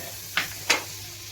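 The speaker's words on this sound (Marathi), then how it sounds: "आपण बटर टाकून घेऊया" Butter in a pan for toasting bread gives two short, sharp sizzling bursts close by against a quiet low hum, with no talking.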